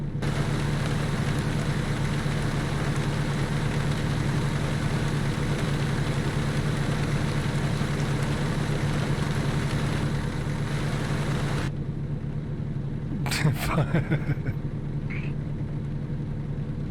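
A heavy truck engine idles in American Truck Simulator, a steady low rumble with a dense mid-range drone that holds evenly for the whole stretch. Near the end the high end drops away and a few brief clicks sound over the continuing engine.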